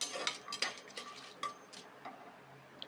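Whole spices such as star anise, marathi moggu and kalpasi with fennel being stirred and tempered in a pan for mutton kurma: soft scraping and light clinks of a spoon against the pan, faint and intermittent, with no talking.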